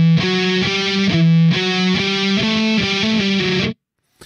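Distorted electric guitar plays the opening measures of a song, a fast chugging sequence of heavy palm-muted and legato notes, loud and close, cutting off abruptly near the end.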